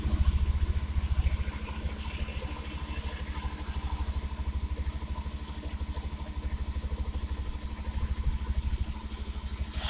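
A Bajaj Pulsar 150 BS6 motorcycle engine idles steadily up close, a continuous low, even thrum with a light mechanical clatter and no talking.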